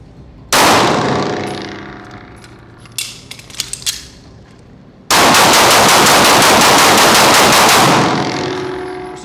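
A Sig P320 pistol fires a burst of loud, sharp shots with metallic clangs ringing between them, then a longer, very loud run of rapid shots that fades slightly toward the end.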